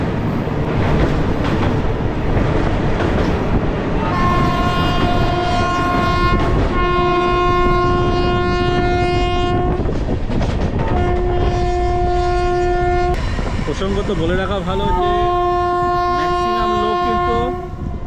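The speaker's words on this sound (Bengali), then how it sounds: "ট্রেন আমাদের ঢুকছে নিউ জলপাইগুড়ি স্টেশন" A Sealdah–Jalpaiguri Humsafar Express rolls into New Jalpaiguri station with steady wheel rumble and clatter, sounding several long horn blasts in succession; someone speaks briefly over the noise.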